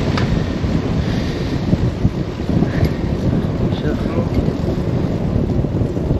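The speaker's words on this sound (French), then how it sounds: "tout va bien, hormis le vent de face" Steady, roaring headwind buffets the microphone of a cyclist riding along the Loire, a constant loud rumble with no pause.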